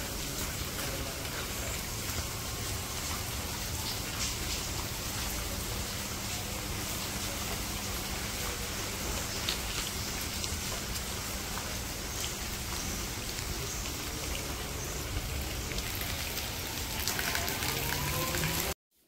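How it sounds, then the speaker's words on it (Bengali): Steady rain falling at a village area, a constant broad hiss of drops hitting surfaces, dense and unbroken for the whole stretch with faint talk beneath. "এই বৃষ্টি থাকলে কি ভাল লাগে।"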